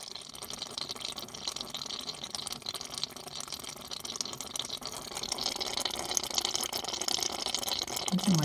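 Coolant mixed with water drains from the cooling system of a 1993 Chevy Lumina APV during a flush, a continuous faint trickling and splashing stream that grows slightly louder toward the end, with no talking.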